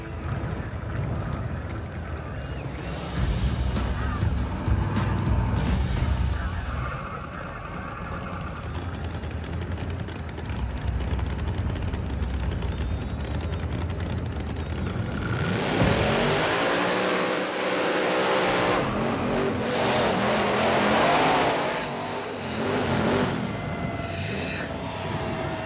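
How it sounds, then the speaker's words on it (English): A drag racing truck roars through burnouts and hard revs, engine noise swelling and surging in long bursts with loud broadband tire and exhaust roar, close and dominant throughout. "We do the burnouts, we go to pull up there."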